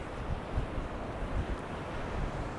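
Sea waves roll in on a chilly East Coast UK beach at Easington, a steady low rumble of surf mixed with wind buffeting the microphone, with no talking.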